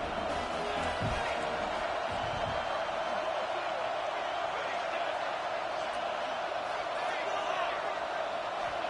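Stadium crowd at a college football game, Michigan versus USC, roaring steadily through a tense fourth-down play, a dense and sustained wall of cheering noise with a few brief thumps near the start.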